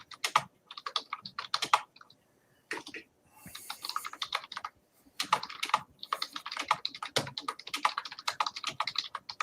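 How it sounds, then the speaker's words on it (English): Rapid clicky mechanical computer keyboard typing, close and crisp, in irregular bursts of keystrokes with brief pauses between runs. "Who has the super clicky keyboard?"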